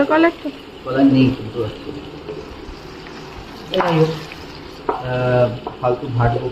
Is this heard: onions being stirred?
yes